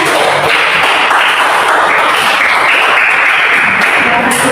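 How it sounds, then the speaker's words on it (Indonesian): Loud, dense applause from a group of students clapping for group 4 at a school presentation fills the room continuously, close and steady throughout. "tepuk tangan untuk kelompok 4 semuanya"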